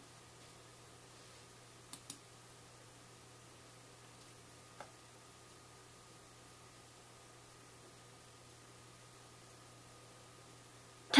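A computer mouse clicks during a SAS software tutorial: a quick double click near the start and a single click a few seconds later. Both are faint and sharp over a steady low hum, with no talk.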